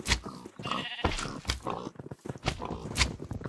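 Blocky Minecraft sheep bleat in quick, overlapping bursts, close and fairly loud, with short gaps between the calls.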